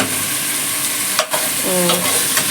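Garlic, capsicum, onion and peppercorns fry lightly in oil for Kuwaiti mutton machboos, a close steady sizzle with a brief clatter and a few stirring scrapes.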